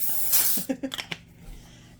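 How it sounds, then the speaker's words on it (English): A short hissing burst of cooking spray onto an old baking pan lasting about half a second, followed by a few light clicks and taps nearby. "I'm going to spray my well-loved pan."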